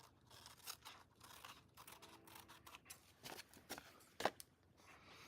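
Soft, quick snipping and rustling of scissors trimming patterned paper for a book cover, a close, faint run of crisp cuts and paper shuffles with no voices.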